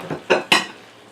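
Stir-fried ramen noodles with shrimp and crisp vegetables being transferred from a pan to a plate, with three quick metallic scrapes and clanks of a utensil on cookware, close and fairly loud, followed by a short fading tail.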